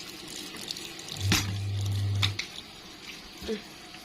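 Water runs from a tap into a basin in a short steady burst of about a second before cutting off, with a brief splash afterward; a voice speaks nearby.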